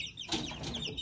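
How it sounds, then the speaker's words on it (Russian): Young chicks in a brooder and a box peep and cluck in a steady, fairly close chatter, with overlapping high calls throughout and no talk. "У меня содержатся цыплята в брудере сейчас и в коробке."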